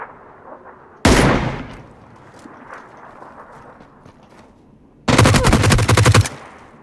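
Two bursts of rapid automatic gunfire in PUBG, the first short and sharp, the second a longer loud rattling string, with quiet game ambience between and no talk.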